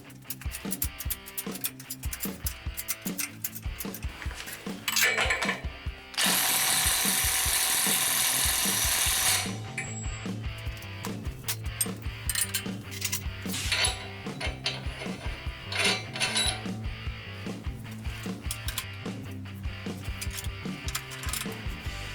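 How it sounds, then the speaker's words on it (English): A 3/4-inch torque wrench tightens a grade 8 bolt to over 400 foot-pounds with repeated metallic ratchet clicks and clanks. A brief loud hissing burst cuts in partway through, and the clicking resumes. "using this 3/4-inch torque wrench, we're going to torque it down to over 400 foot-pounds"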